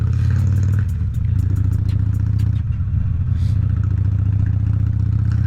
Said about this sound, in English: Nice, really nice torquey bike at low RPM.